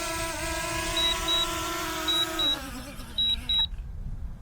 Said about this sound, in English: You hear the controller beeping